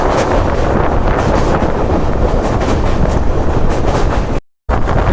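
An express train on the Kolkata to Mizoram run rumbles steadily with a close, continuous roar and wind buffeting, broken only by a brief dropout near the end.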